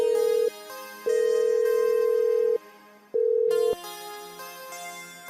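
A phone rings and goes unanswered, its electronic ring tone sounding in steady long bursts separated by short gaps, clear and alone without any voices.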